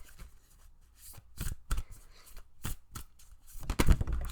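Oracle cards being shuffled for a pick-a-card reading, a quiet series of brisk riffling bursts and soft card slaps, close and alone with no talking.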